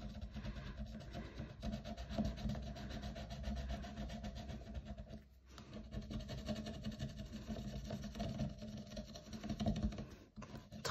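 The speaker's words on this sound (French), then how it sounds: "je vais même gratter une grosse pastille" A steady, fast, raspy scratching scrapes the sticker off a savings challenge card. It runs close and continuous for about eleven seconds with only a brief pause midway.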